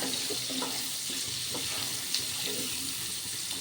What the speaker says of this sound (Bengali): পেঁয়াজগুলো একটু হালকা ভেজে নেব